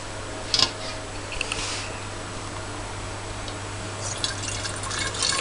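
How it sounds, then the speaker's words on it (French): Water, about 700 centilitres, is poured into a bottle while making a kiwi sharbat drink, giving quiet, uneven trickles and drips with a few brief splashy bursts over a steady background. "qu'on va verser dans la bouteille."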